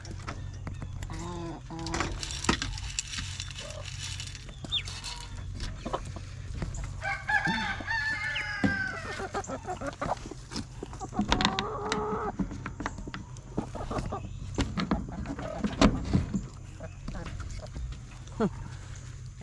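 Free-range hens cluck steadily nearby while a rooster crows a few times in the morning, with a person talking in between and a low hum running underneath.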